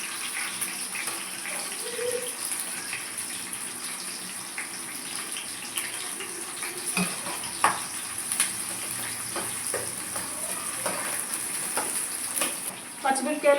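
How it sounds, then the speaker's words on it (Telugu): Onions and green chillies frying in a pan for fish curry, a soft steady sizzle close by with occasional light clinks and stirring taps. "పచ్చిమిరపకాయలు ఉల్లిగడ్డలు రెండు కూడా మంచి బ్రౌన్ కలర్ వచ్చే వరకు వేయించాలి."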